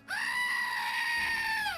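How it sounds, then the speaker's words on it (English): A screaming goat sound effect plays on a game stream: one long, loud, sustained bleating scream that wavers slightly in pitch and cuts off abruptly, with no talk over it. "And the goat does scream, and he sounds like this."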